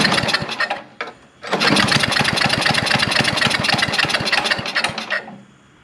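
A 1978 snow blower engine being cranked, with a brief stutter, a pause, then several seconds of close, loud, rapid putt-putting firing before it cuts out abruptly.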